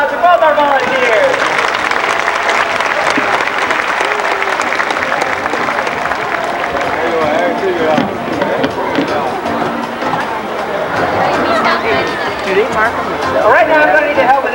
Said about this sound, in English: How about a big round of applause for both our volunteers?